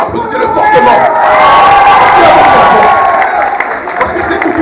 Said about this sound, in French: Sékou Touré, bien sûr, applaudissez-le fortement.